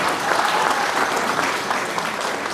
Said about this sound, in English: Audience applause